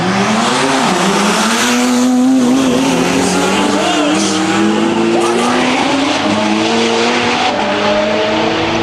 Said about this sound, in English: Mike Bandy, the GTR out of Indy's going to try to keep up